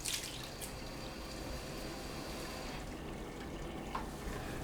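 Steady running water pours from a tap during handwashing, a continuous wash of noise that shifts near the end as the flow is turned off.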